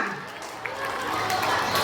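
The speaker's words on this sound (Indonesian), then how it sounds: "Tepuk tangan untuk kelas 5A dulu. Tepuk tangan semuanya." Schoolchildren clap for a fellow class at a school closing ceremony, a bright crowd of small hands with some cheering voices, rising slightly in loudness.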